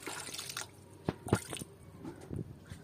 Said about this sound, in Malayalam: അപ്പോൾ ഇതിലേക്ക് കുറച്ച് വെള്ളം ഒഴിച്ചിട്ട്